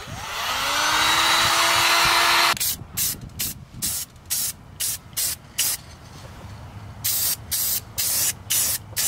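A heat gun blows over freshly painted parts from a 1956 Chevy restoration, starting as a loud, steady airy roar with a faint whine, then breaking into a rhythmic series of short, close hissing bursts.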